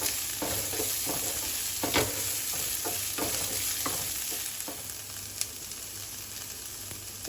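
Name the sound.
stirring finely chopped onion frying in pan for sambar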